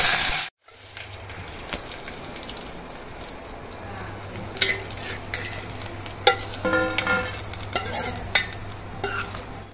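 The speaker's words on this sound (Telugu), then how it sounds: "అలాగే కొంచెం జీలకర్ర, అలాగే కొన్ని ఎండుమిరపకాయలు వేసుకొని మంచిగా రోస్ట్ చేసుకోవాలి." Cumin seeds and dried red chillies dry roast in a pan for curry leaf podi, a light crackling sizzle with scraping and rattling as they are stirred, broken by sharper taps and clinks, after a brief silence at the start.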